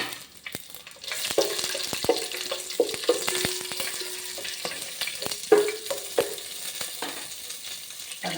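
Ingredients for a vegetable biryani fry in a pan, a close sizzle punctuated by repeated knocks and scrapes of a spoon stirring against the metal.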